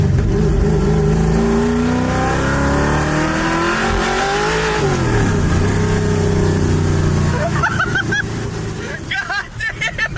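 A car engine, clutch dumped, revs hard at full throttle, its loud rising and falling tones filling the foreground before dropping off, followed by excited shouting near the end.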